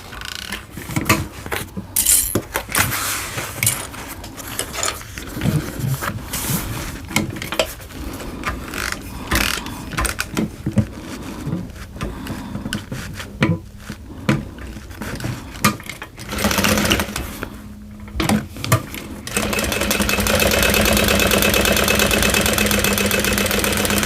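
A sewing machine stitches a bowler bag in uneven bursts of rapid mechanical clatter separated by pauses, then settles into a steadier whirring run near the end, heard close up with no talk.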